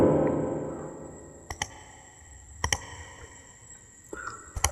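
Someone types an email address on a mobile phone, giving a few sharp taps that arrive singly and in quick pairs over a quiet room hum. No one speaks.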